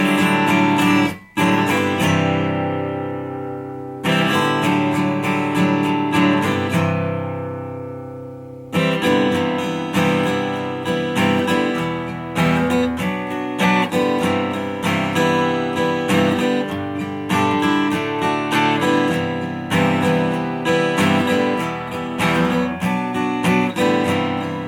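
Acoustic guitar playing a song, a steady strummed arrangement with a few pauses where chords ring out, loud and close throughout with no voice.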